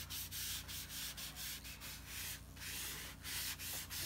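Pastel is rubbed into paper for a Halloween pumpkin witch drawing, giving a close, continuous rhythmic scrubbing with regular strokes over a steady low hum.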